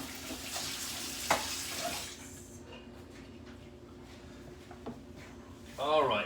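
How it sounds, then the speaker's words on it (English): Cold tap water runs steadily to rinse fish fillets, a continuous hiss of flowing water with small splashes and clunks, with a voice heard briefly near the end. "take some cold water and rinse these fish fillets off"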